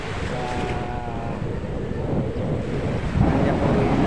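Small waves out at open sea, a steady wash of water with heavy wind buffeting the microphone, continuous and fairly loud.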